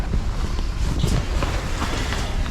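Wind blowing against an ice fishing tent in extreme cold, a steady, loud broadband rush with buffeting gusts and fabric flutter, continuous throughout with no talking.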